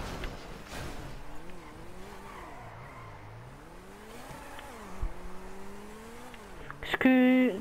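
A sports car in GTA races along fast at around 130, its engine tone sweeping up and down through gear changes, with a sharp burst near the end, under faint talk.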